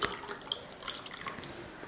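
Water poured from a tap or vessel into rasam with tomato and tamarind during Tamil home cooking, a brief faint splash and trickle with a few drip-like plinks, close by and alone.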